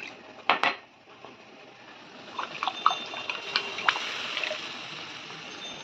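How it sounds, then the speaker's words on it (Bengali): Water rinsed out of a mixer grinder is poured into a buttery malai kofta gravy in a cooking pan: a couple of sharp utensil clinks, then a steady, soft trickle and splash with small scattered clatters. "এই মিক্সি ধোয়া জলটাও একটু দিয়ে দেবো"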